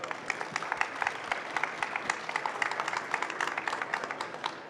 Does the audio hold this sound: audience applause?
yes